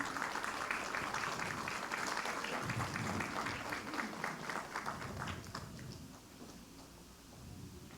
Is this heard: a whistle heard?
no